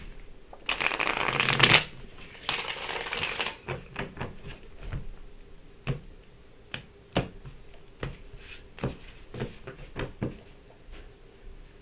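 Tarot cards riffled and bridged in quick bursts, followed by a series of crisp individual card snaps and taps at an uneven pace, close by.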